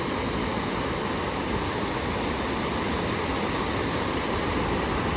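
A mountain stream flows at its confluence with the Oqsuv river near Shohimardon, producing a steady, loud broadband rush of water that holds constant throughout without pause.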